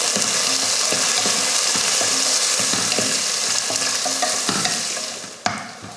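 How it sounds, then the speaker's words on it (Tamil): Sliced onion and four green chillies sauté in hot oil for chicken biryani, giving a loud, steady sizzle with regular scraping stir strokes, alone with no talk, easing off near the end. "ஒரு பெரிய வெங்காயத்தை நீல வாக்கில் கட் பண்ணியிருக்கேன் சேர்த்துக்கலாம். பச்சை மிளகாய் 4. இப்போ இதை நல்லா பொன்னிறமாக வதக்கி எடுத்துக்கலாம்."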